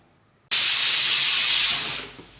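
A pressure cooker whistles loudly while beef cooks on the stove, one sustained steady hiss of escaping steam that holds for about a second and a half before tapering off.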